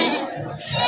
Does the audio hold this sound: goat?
yes